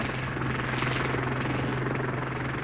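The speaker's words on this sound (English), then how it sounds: "The Westland Lynx is undoubtedly the best helicopter yet developed in the UK" A Westland Lynx helicopter, a twin-turboshaft machine with a semi-rigid main rotor, drones steadily and loudly throughout, a continuous buzzing engine and rotor roar with no pauses or voices.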